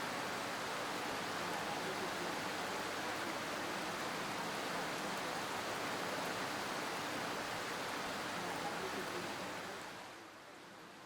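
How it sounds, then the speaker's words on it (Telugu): Rain falling outdoors as a steady, even wash of hiss that holds constant for several seconds before easing slightly at the end. "ఈ వర్షం ఏంట్రా బాబు"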